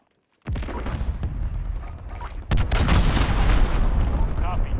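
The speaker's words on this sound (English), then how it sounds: "Cruise missile away." A cruise missile strike in Call of Duty: Modern Warfare: a heavy explosion bursts in loudly after a brief silence, then a second boom surges in and leaves a dense, rumbling roar that keeps going.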